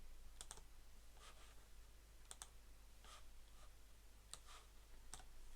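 Someone types on a computer keyboard in short, faint bursts of crisp clicks, separated by brief pauses, over a quiet low hum.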